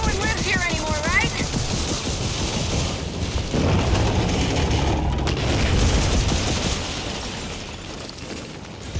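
Rockets launch and explode in the Gears of War 4 video game, a dense rumble of booms and gunfire bursts mixed with mechanical clatter under talk.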